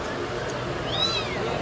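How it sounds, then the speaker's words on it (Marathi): A newly adopted pet cat gives a single soft, rising meow, fairly close, over a steady background hum. "फायनली आम्ही कॅट घेतले"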